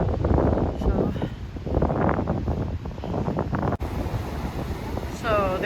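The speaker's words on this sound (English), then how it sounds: "The waves are coming in." Ocean surf rolls in at a busy beach beside a lifeguard station, a steady broadband wash heavily buffeted by wind noise on the microphone.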